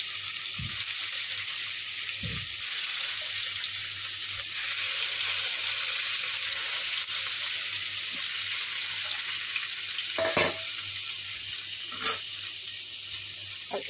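Food frying in hot oil in a pan, a steady broad hiss that runs throughout with a few soft clinks and taps, close and even, with no talk.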